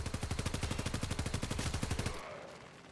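Enemy gunfire in a video game rattles out as a rapid, evenly spaced burst of automatic shots for about two seconds, then cuts off into a quieter lingering tail.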